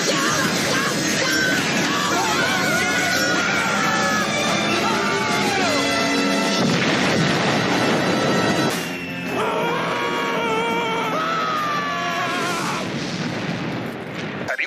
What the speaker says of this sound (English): Here's more explosions to observe.